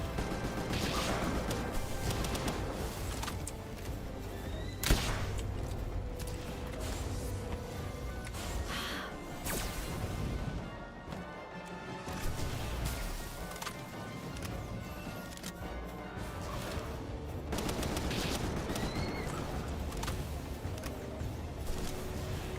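An AK rifle fires in a video game: bursts of gunfire come in dense runs across the whole stretch, loud and continuous, with a short lull near the middle and a mix of game effects throughout.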